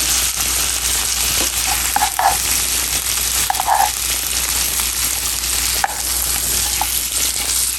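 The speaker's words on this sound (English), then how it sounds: "we'll just toss the asparagus to get that butter garlic flavor throughout" Asparagus tossed in a pan with butter and garlic gives a steady close sizzle, broken by a few soft scrapes and clinks of the pan and utensil.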